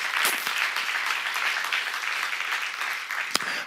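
A church congregation applauds during a sermon, steady mid-level clapping from many hands in a room, with a couple of sharper individual claps standing out.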